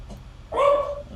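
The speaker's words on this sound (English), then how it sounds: "There must be a dog outside." A dog gives a single short bark or yelp outside, a brief mid-pitched sound heard at moderate distance over a quiet room.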